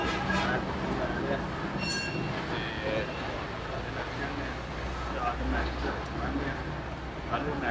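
Crowded metro train in motion, a steady low rumble of wheels on rails with brief metallic squeal and rattle, under murmured background chatter.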